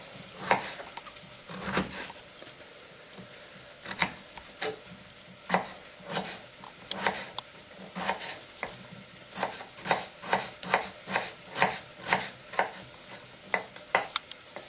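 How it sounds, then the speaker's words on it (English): An amateur cook chops potatoes into small chunks, with a knife tapping a board in uneven bursts that turn into a quicker, steady rhythm near the end, close and fairly clear. "The next thing to do is chop up your potatoes into small"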